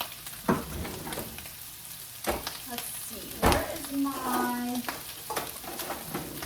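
Sweet sausage cooking in a pot of potato soup, a soft steady sizzle broken by a few sharp clinks of a spoon against the pot, close and fairly quiet.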